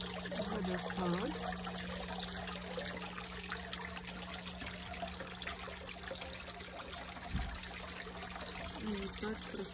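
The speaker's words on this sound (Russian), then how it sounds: "Водопад." Water trickles steadily in a garden waterfall feature among container plants and fuchsias, a faint continuous splashing that runs alone throughout, with a steady low hum beneath.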